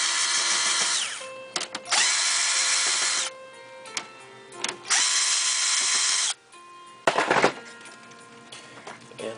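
Repeated bursts of a small electric screwdriver whirring, alternating with clicks and handling noises while screws come out of the front control panel of a Brother MFC-8910dw laser printer; close and loud, no talk.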